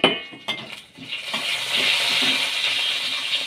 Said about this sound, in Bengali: রসুন ফোড়ন দিলাম